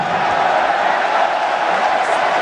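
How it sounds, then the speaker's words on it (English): A large crowd at an evening tennis quarterfinal, Tsonga versus Roddick at the 2008 Paris Masters, roars with continuous loud applause and cheering, a dense unbroken wash of sound. "The loudest applause of the evening."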